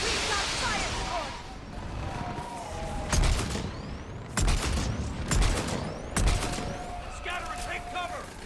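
Sporadic gunfire crackles through a firefight in Mass Effect Legendary Edition, a few sharp bursts standing out against steady battle noise and a background hum of combat, with game voices and talk heard beneath.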